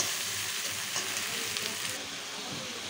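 Spices for an egg curry frying in oil, a dense, even sizzle close up and fairly loud, holding steady throughout with no talking.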